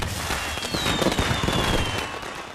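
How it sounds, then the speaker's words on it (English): Video game fireworks bursting and crackling in rapid succession, with a whistling streak rising over the dense popping. "Fireworks work."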